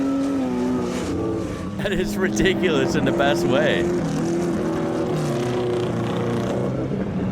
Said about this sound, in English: Open top, loud exhaust in the cold.